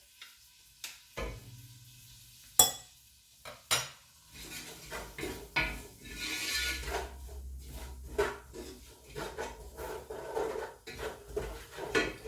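Scotch bonnet pepper and other ingredients are stirred and sautéed in a pan for a coconut, kale and green peas soup. Utensils knock and scrape against the pan in scattered sharp hits over a soft, intermittent sizzle, with no voices.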